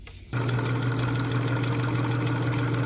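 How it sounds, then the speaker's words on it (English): A sewing machine stitches a quarter-inch seam around a fabric rectangle for a diaper strap. Its motor starts after a brief quiet moment and then runs in a steady, close, even whir with no talking. "I'm going to take the whole thing to my sewing machine and I am going to sew around the entire outside"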